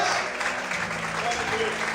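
A church congregation claps together during a pastor's sermon, the applause dense and steady, with a voice audible beneath the clapping.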